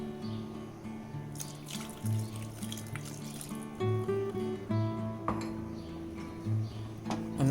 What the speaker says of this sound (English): So we'll add some more water.